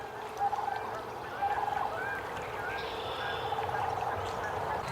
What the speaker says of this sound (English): it looks like a bunch of Canada geese landed